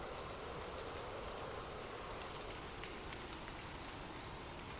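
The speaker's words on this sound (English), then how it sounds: "drift off to sleep with rain." Steady rain falls in a dense, even patter that stays constant throughout, soft and evenly spread with no voices.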